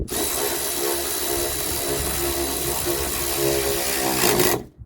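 A Milwaukee impact tool, rated around 60 to 80 foot-pounds, runs nonstop for about four and a half seconds during work on a 1996 Geo Tracker, a loud steady mechanical whir that cuts off abruptly at the end.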